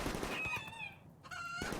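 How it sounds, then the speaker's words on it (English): An avian paragon rooster in the RimWorld video game gives a few honking, crowing calls in quick bursts, with a short pause between them, fairly close and moderately loud over busy game noise. "The avian paragon rooster."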